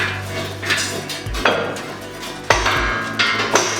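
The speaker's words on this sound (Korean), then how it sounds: "빔 상부를 슬래지 해머를 사용해 시공대 위치로 넣어주고" A sledgehammer strikes a steel H-beam, driving its top into position during structural reinforcement in a building's ground floor under remodeling; several sharp, ringing metallic clanks come in irregular succession with a resonant decay, nearby and loud.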